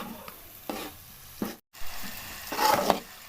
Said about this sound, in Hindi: तकरीबन 20 से 25 मिनट के लिए हमने भुनाई करनी है सूजी की